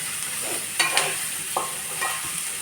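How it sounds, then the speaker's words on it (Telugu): Onions frying in oil left over from frying fish, for a fish pulusu: a steady close sizzle with a few soft stirring scrapes and spoon taps, no talking. "ఉల్లిపాయ ఇంకా బాగా వేగాలి అనుకునేటప్పుడు"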